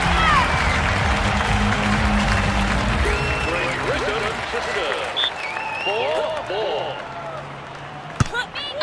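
A stadium crowd applauds and cheers at the Horse Guards beach volleyball venue in the London 2012 video game, loud sustained clapping that gradually thins, with whistles and voices and a sharp hit near the end.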